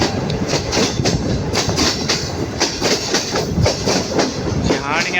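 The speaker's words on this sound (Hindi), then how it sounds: "जबरदस्त ट्रैक साउंड के साथ" Green Line Express passenger train in Pakistan rolling along the track: close, loud rumble with repeated sharp clickety-clack wheel beats over rail joints in an uneven rhythm, continuing for several seconds.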